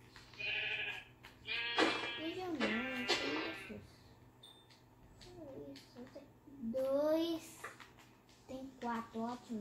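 Sheep bleating in the Minecraft video game, a few short wavering bleats scattered between a child's excited chatter, with a faint low game hum underneath.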